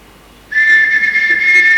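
During a stage production of The Sound of Music, a shrill whistle blown to summon the household starts sharply after a brief quiet. The single steady blast is loud and close and holds for more than a second.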